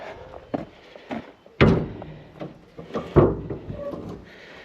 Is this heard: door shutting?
yes